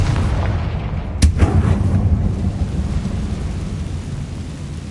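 A Confringo fire spell blast in Hogwarts Legacy, one sudden loud crack followed by a rumbling boom that fades into steady low ambient hum, with no talking.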